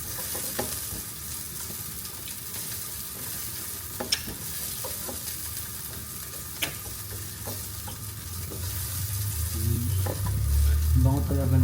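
Onion and garlic fry in a pan with a steady close sizzle, while a utensil stirs with scattered scrapes and clicks; the frying grows louder toward the end.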